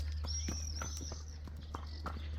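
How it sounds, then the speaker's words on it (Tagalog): Soft, faint hoof clops of a large horse in an uneven walking rhythm over a low steady hum, with a thin whistling tone drifting above. "May malaking kabayo."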